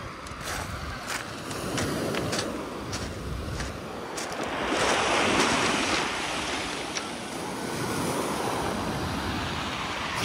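Sea waves wash and break steadily after a storm in Sochi, with a broad surf roar swelling and easing, mixed with gusts of wind buffeting the microphone.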